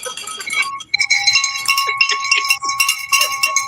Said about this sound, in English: Somebody, we ringing the bell. I got the bell.